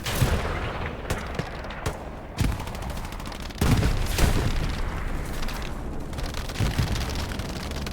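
Artillery and gunfire boom through a WWII video game battle on Utah Beach, with loud blasts striking at irregular intervals over a continuous rumbling wash of combat noise.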